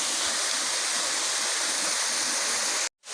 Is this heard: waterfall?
yes